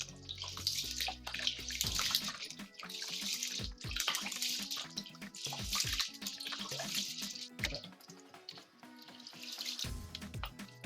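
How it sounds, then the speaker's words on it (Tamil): Rice washed in water in a kitchen, with repeated swishing, splashing and pouring bursts in an irregular rhythm, close and moderately loud, no talking. "அரிசி 2 தடவை வாஷ் பண்ணிவிட்டு ஊற வச்சுக்கிட்டேங்க."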